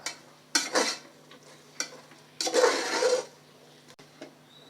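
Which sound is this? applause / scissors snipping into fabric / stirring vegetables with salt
stirring vegetables with salt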